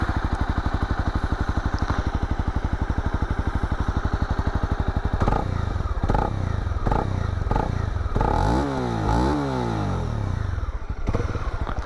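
A stock-exhaust Honda CB300R motorcycle idles steadily in a fast even thrum, then a run of sharp clatters and short revving bursts breaks in during the second half, loud and close, with no talk.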